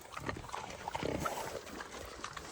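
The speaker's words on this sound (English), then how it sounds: "You're the funniest looking pig I ever seen." Low, snuffling grunts from a pig nearby, a few short rough bursts over quiet background, fairly soft and irregular.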